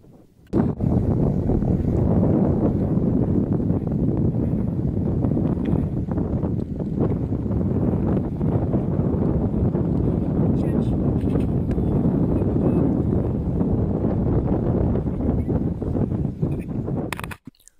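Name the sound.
strong wind on Aconcagua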